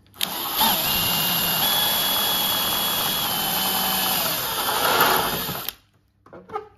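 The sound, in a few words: power drill drilling a lock cylinder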